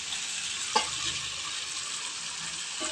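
Prawns go into a hot pan of spiced yogurt gravy and sizzle steadily, a bright continuous frying hiss with a single clack of the spoon as they are stirred.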